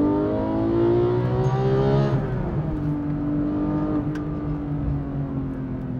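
A Porsche 992 GT3 Touring's 4-liter naturally aspirated flat-six with individual throttle bodies revs loud and steady, its pitch easing down as it drops from high RPM.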